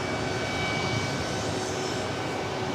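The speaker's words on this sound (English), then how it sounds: "This flight heading to Burbank, California, in an Airbus A220-300." Airbus A220-300 jet at a busy airport, a steady broad roar of engines with a faint high whine, constant and fairly loud throughout.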